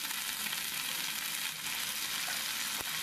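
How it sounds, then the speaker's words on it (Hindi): Washed green peas frying in a pan and being stirred, a dense, loud, continuous sizzle with occasional scrapes of the spoon, heard up close without any talking. "इसमें हम मटर धुला हुआ जो रखे थे उसको डाल देंगे, अच्छे से भूनेंगे"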